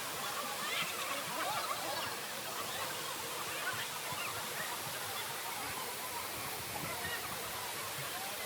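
Dudhsagar waterfall flowing steadily in April outside the monsoon, a dense continuous roar of falling water that stays constant and full throughout, with no clear break.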